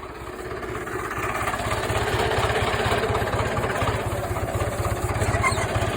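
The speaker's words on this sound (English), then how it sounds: "We're going to put the tractor in gear" A low, steady old tractor engine idles with a rapid, even chug, loud and close, running continuously without any voices.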